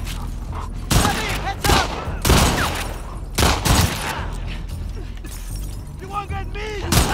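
Gunfire in the video game The Last of Us Part 2, a series of sharp loud shots spaced irregularly with clattering impacts and game effects between them, while people talk over the action.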